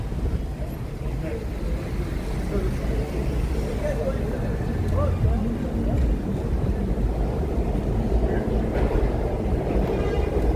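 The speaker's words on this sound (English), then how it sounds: "You can hear the train running underground, right?" A subway train rumbles underground beneath a metal street grate on 8th Avenue in Midtown Manhattan at night, a steady low roar blended with city ambience and a voice speaking over it.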